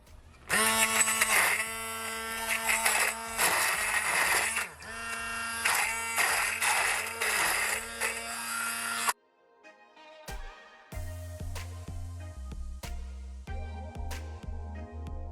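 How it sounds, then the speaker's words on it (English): A hand blender whirs loudly in a jug of fruit for a Jamaican black rum cake, running in steady bursts with pitch dips as it churns, then stops and restarts in shorter, lower pulses; no talking. "this is gonna be my first time using the hand blender"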